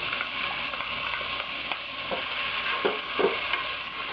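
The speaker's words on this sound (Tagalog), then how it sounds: "Pag light brown na yung garlic, lalagay kaagad natin yung onions." Onions fry in hot shortening alongside browned garlic, giving a steady, close sizzle with occasional soft knocks from stirring and no voices.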